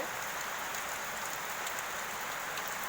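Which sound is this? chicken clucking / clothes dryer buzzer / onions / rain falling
rain falling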